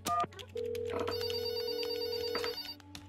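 A telephone rings in the video game There Is No Game, a steady electronic tone sounding for about two seconds after a brief earlier burst, clear and close with no talking.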